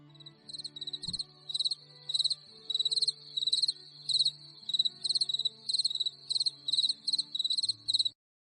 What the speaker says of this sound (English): And yes, those crickets chirping where Tracy's voice would normally chime in